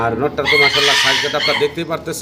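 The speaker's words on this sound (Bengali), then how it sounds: "আর পুরো ভিডিওতে আপনারা হয়তো একটা মোরগের ডাক শুনতেছেন বাইরে একটা ফেন্সি মোরগ আছে" A fancy rooster crows outdoors, a strong drawn-out call that rises and falls across the whole stretch, while someone talks over it nearby indoors.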